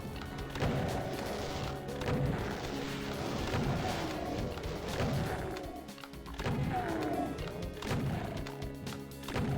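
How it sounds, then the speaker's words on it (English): Repeated booming shotgun blasts of the super shotgun in Doom 2 tearing into imps, loud and close, firing at an irregular pace with crashes and monster noises between shots. "who doesn't love just blowing away imps with the super shotgun?"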